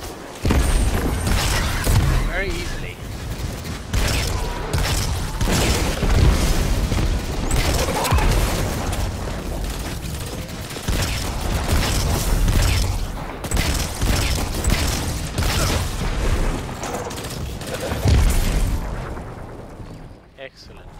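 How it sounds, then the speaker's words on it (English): Hand cannon gunfire in Destiny 2, a string of heavy booming shots and blasts, loud and dense throughout, under a voice and game sounds. "See, my hand cannon takes these guys out"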